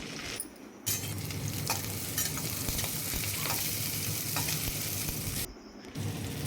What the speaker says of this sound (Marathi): खुरलेली मिरची टाकून परतून घेणे कढीपत्ता कांदा टाकून पर परतून घेणे